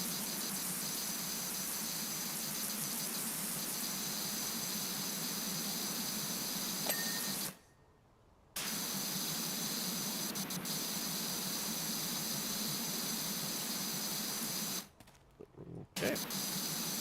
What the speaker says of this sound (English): this is that new turbo nozzle